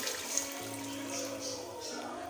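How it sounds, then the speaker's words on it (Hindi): Water poured from a pot into mutton pulao masala, a steady splashing pour that settles into a broad wash of liquid sound, close and moderately loud with no talk. "अब हम इसमें चावलों का पानी डालते हैं।"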